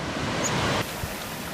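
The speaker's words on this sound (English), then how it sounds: "Surging breakers are waves that rapidly surge up a beach without appearing to break." Steady ocean surf breaking on a beach, a continuous loud wash of noise that drops slightly partway through, with no voices.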